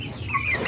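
Young Rawamerta laying-hen chickens, one to two months old, cluck softly and close by in a continuous low murmur of fowl calls, with no speech.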